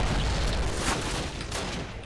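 Dense gunfire in a Call of Duty train yard battle, overlapping shots and bursts forming a loud, continuous volley with a few sharper cracks standing out.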